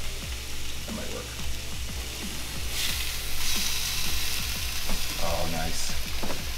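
An egg fries in a pan with steady sizzling throughout, broken by scraping spatula clicks and a few clattering knocks as it is flipped over; a faint voice murmurs briefly in the background.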